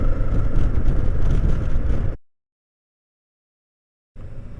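Kawasaki Vulcan S cruiser motorcycle, 2015 model, riding at about 55 mph: loud, steady engine and wind roar for two seconds, then total silence, then the rumble returns briefly.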